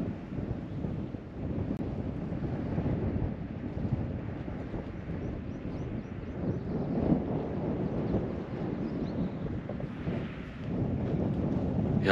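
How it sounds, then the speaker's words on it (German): Strong gusty wind roars on a mountaintop near Sölden, Austria, buffeting the microphone in a continuous low rumble that swells and eases across the whole stretch, with no voices. "hier stürmt es ohne Ende. Also hier ist zu viel Wind"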